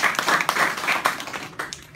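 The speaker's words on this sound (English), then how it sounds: "Round of applause for Nathan" Audience applause for a student speaker before an informative speech, a steady patter of many hands clapping with uneven bursts, fairly close and continuous, thinning slightly toward the end.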